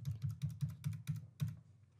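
Steady clicking of computer keyboard keys, about eight evenly spaced keystrokes typed in quick succession at close range in a quiet room, with no talking.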